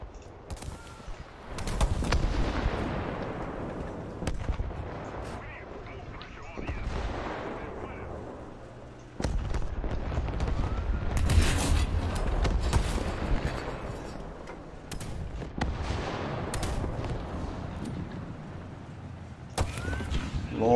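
Booming artillery fire from the War Thunder battlefield, repeated heavy blasts and rumbling impacts spread across the scene over a constant low engine drone, with someone talking over parts of it.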